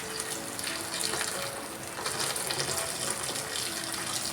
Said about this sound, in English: I'm going to add some more boiling water to the pot